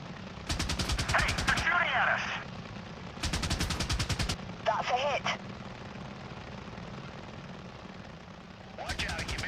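Gunfire bursts at an Apache helicopter in the video game Apache Air Assault, with rapid machine-gun rattles in short clusters over a steady rotor drone and radio-style voices.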